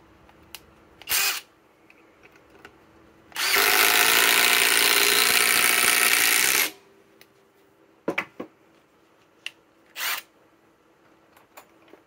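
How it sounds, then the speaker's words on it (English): An impact driver runs loud and steady for about three seconds while driving a 4-inch timber lock screw. Short clicks and brief trigger bursts come before and after, with no one talking. "Let's go back to the 4-inch timber locks."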